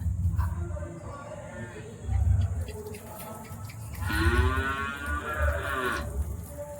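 Cattle in a shed low and moo, with a few deep moos at close range, the longest near the end, over a background of voices and household noise.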